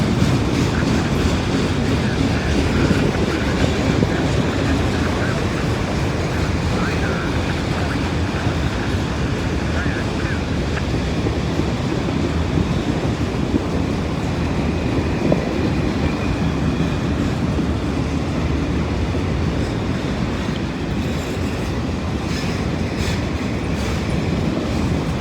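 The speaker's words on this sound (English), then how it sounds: "This must be the same train going the other direction" A passing freight or passenger train going the other direction, a steady rolling rumble with wheel noise that holds loud and continuous throughout, close by, with possible faint voices underneath.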